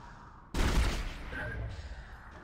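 Gunfire at a shooting range in the sci-fi horror video game Dead Space bursts in suddenly and loudly, then trails off into a sustained noisy tail. A voice speaks in the background.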